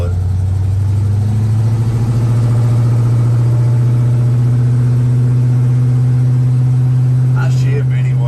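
A 1977 square body truck's engine runs at a steady low rumble from inside the cab, loud and constant throughout, with a brief faint clatter near the end.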